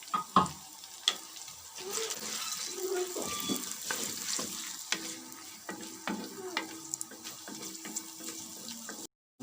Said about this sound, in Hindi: अब इसमें हम डालेंगे प्याज और इसको अच्छी तरह से फ्राई करेंगे, पकने तक, इसको ब्राउन करने तक।